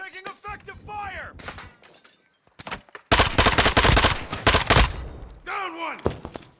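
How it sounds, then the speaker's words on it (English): Gunfire in Call of Duty: Modern Warfare II: loud automatic bursts mix with shattering impacts, and a heavy, dense volley fills the middle. Voices talk over the combat. "taking effective fire"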